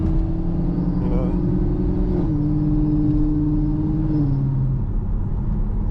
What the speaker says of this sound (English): y'all listen to the car.